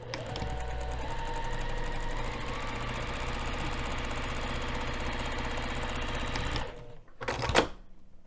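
A sewing machine stitches a zipper overlay on fabric, running at a steady fast mechanical whir with rapid needle clatter for several seconds, then stopping, followed by a brief rustle and handling clunk.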